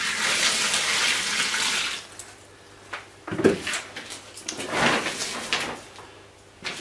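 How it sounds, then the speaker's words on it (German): Warm water is poured from a container into clay being mixed for a wood-gas stove build, with a close splashing pour at the start. Softer knocks, sloshes and handling noises follow as the clay is worked. "Ein bisschen warmes Wasser dazu."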